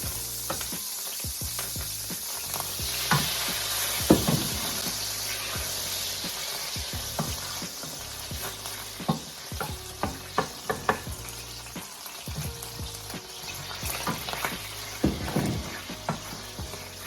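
Olive oil and white wine sizzling in a pan for Cajun shrimp scampi, a constant close hiss broken by repeated clinks and scrapes of a utensil against the pan.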